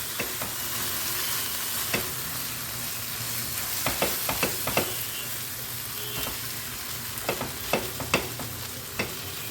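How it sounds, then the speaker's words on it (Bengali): Boiled potato is stirred into a frying spice mix for Kolkata-style street-food aloo chop, a constant close sizzle broken by scattered spatula clacks and scrapes against the pan. "এটাকে আবার ভালো করে নাড়িয়ে আমি এর সঙ্গে অ্যাড করে দেবো আলু সিদ্ধ আলুটা"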